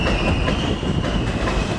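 An M subway train runs on the elevated tracks in Ridgewood, New York, a loud, close, steady rumble with rhythmic wheel clatter and a thin high squeal running throughout.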